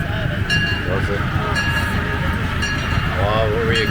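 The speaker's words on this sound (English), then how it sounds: "Alright, so that was the train ride." Amusement park train ride at Camden Park in Huntington, West Virginia: a close, loud rumble of wheels on track with metallic clinks and clacks, steady throughout a few seconds.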